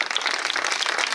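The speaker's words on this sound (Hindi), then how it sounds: "फिर से ये बच्चों के लिए आप ताली बजाइए" A brief, dense burst of crowd clapping for children at a school annual function, steady and fairly loud throughout the short moment.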